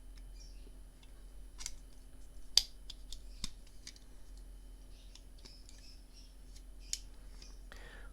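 Sparse sharp clicks and snaps from a SHALL 18-in-1 multi-tool as a locking blade is released and folded closed, a few distinct metallic ticks spread over quiet background, close and fairly faint.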